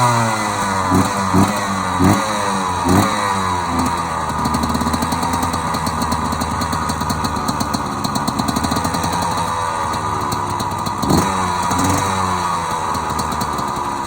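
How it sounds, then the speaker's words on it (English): A 1996 Yamaha YZ125 two-stroke motorcycle engine, cold started, idles roughly with a rattling, buzzy tone and several quick revs, close and loud throughout. "that's a cold start on my 1996 yz125"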